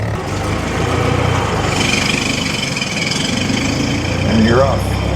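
A Ford Model T engine runs with a steady mid-pitched chug, close by, with a voice speaking over it and a rising whine near the end.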